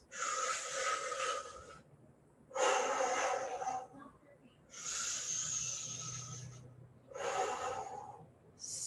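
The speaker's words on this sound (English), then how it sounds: "Heavy breath." Heavy, forceful breathing during a prenatal yoga exercise: four long, loud breathy bursts of a couple of seconds each, separated by short pauses, close and alone without talk.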